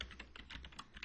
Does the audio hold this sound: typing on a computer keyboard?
yes